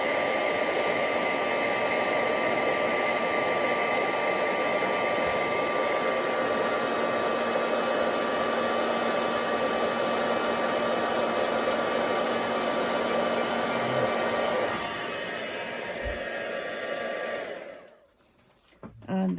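A heat embossing tool blows loudly and steadily for about fifteen seconds while melting multi-metallic embossing powder, then its whooshing tone drops and cuts off near the end.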